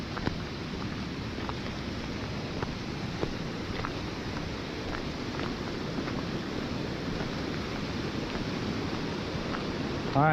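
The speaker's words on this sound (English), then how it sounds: "water flow's going pretty good right now" River water rushing past a trout fishing spot on a chilly morning, a steady, broad churning roar that holds unbroken throughout, with no talking.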